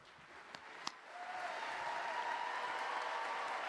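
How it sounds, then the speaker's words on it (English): Applause from the audience at a university commencement ceremony, soft and steady after two sharp claps near the start, with a faint tone running underneath and no speech. "Get used to clapping."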